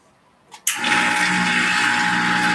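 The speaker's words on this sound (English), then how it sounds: "Hear that little bit of rumbling? That's like the water being a little bit too hot for our purposes." An espresso machine steam wand or boiler roars to life while brewing coffee with water that is too hot, a sudden loud, steady rushing hiss with a low rumble underneath, close and continuous.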